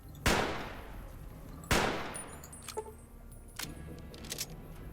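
Two loud, sharp sniper rifle shots in Fallout New Vegas, about a second and a half apart, each with a long fading echo, followed by faint clicks and small game sounds.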